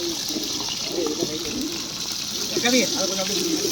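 Tap water runs steadily throughout as duck meat is washed for a New Year fry, a constant near hiss with voices talking over it.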